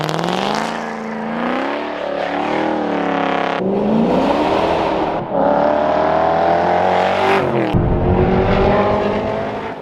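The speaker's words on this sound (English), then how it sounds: "It now has the very first FI exhaust ever put in a Ford GT" A Ford GT fitted with an FI exhaust revs hard and drives off, a loud, raspy engine note rising and falling through several gear changes, close and alone with no talking.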